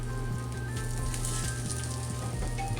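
A burger patty sears in a hot pan with a steady, close sizzle and crackle that holds evenly throughout, with no voices.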